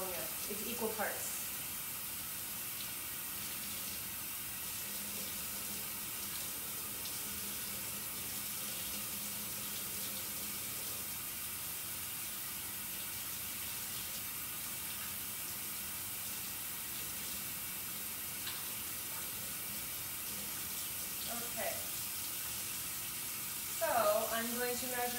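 Faint, continuous running water from a tap, a soft hiss throughout with a few brief louder bursts and splashes near the start and end.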